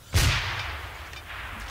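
A single heavy high-explosive round booms and rolls away in a long echoing tail across a mountainous combat zone in Kunar, heard loud and fairly near with no voices.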